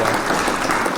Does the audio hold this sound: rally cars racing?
no